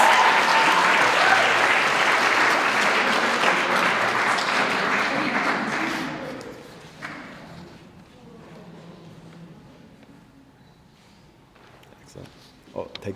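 Loud, sustained audience applause for a graduate at an Indigenous student graduation ceremony, steady for about six seconds before fading out, leaving quiet room noise and a few faint claps at the end.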